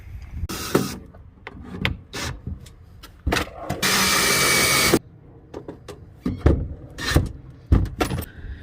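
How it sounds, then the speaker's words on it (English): A power drill drives screws into wood while mounting a fitting in an RV: one sustained loud whir in the middle, surrounded by sharp knocks and handling clatter, with no talking. "So let's go ahead and put a couple screws in and get it in place."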